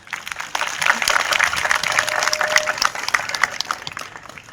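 Applause and clapping from a crowd gathered to welcome home a retired army veteran in Mahadevpura, a steady broad patter sustained throughout, with faint voices mixed in.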